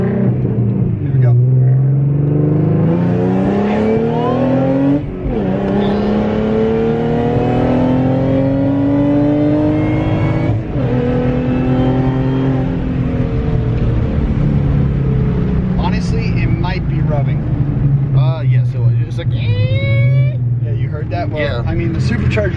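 Supercharged 2014 Mustang 3.7 V6 pulling hard in second gear, its engine note rising steadily and loudly up the revs with a brief shift dip, while people talk over it inside the car.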